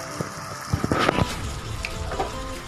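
Masala-ground water being poured into a pan of crab gravy, a short splashing and gurgling burst with faint clatter nearby, no voices.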